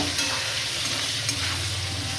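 Dense, close sizzling of potatoes and onion frying in a pan, a steady crackling hiss with faint stirring scrapes and no voices.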